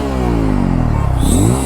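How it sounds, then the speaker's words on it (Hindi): A Bajaj Pulsar F250 motorcycle revs close by, its exhaust note rising and falling in a short, loud, throaty burst with no talking. "चलो एक बार इसका एग्जॉस्ट नोट भी देख लेते हैं कैसा है"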